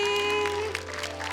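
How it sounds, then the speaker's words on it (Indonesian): An audience claps for Hendy at a televised Quran recitation show, a steady wash of applause lasting throughout, with a sustained musical tone beneath it. "Boleh tepuk tangan semuanya."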